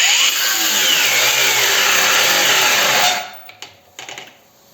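A DRIVAK AG001 cordless angle grinder whines loud and steady at full speed for about three seconds, then cuts out abruptly as its overload protection trips, leaving a few faint clicks and knocks.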